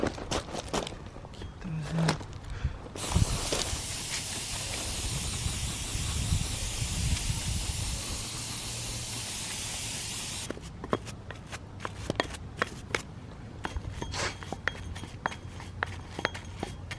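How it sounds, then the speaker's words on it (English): Brake cleaner aerosol sprays in a long, steady, loud hiss onto a caliper carrier during a brake rotor and pad job on an MK7 Golf R, preceded and followed by scattered clicks and handling noises. "Brake cleaner is your friend here."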